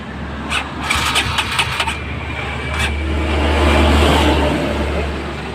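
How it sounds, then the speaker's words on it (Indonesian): A Kawasaki KLX150 motorcycle is kick-started: a few rapid mechanical clicks and thumps, then the engine catches and holds a loud, close, low rumbling idle. "Coba di engkol dulu."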